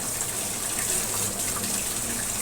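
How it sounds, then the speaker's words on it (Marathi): Steady rush of running tap water pouring over crabs as they are washed clean of mud, continuous and close with no speech. "हे बघा तिला आता आपण स्वच्छ धुवून घेऊ"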